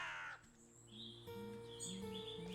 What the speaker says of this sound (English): Very loud crow right there.